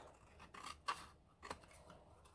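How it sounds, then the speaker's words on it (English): Scissors trim paper for a gingerbread house, a few quick close snips and slides in a quiet room, with no talking. "trim this off a little bit just to line everything up."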